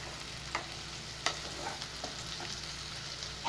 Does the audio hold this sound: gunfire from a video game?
no